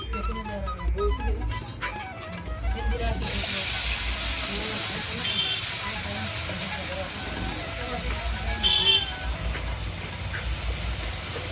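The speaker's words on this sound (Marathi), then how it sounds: "आता आपण तेल तपलेलं आहे आता वेळेला मसाला टाकूया" Ground masala drops into hot oil for a spicy patvadi curry, bursting into a loud, broad sizzling hiss that settles into a steady frying rush, with a voice speaking and other noise over the start.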